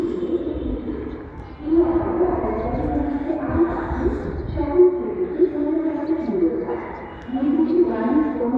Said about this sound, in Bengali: কবুতরকে ট্রেনিং দেওয়ার জন্য কিছু কিছু ছোট টোস করছি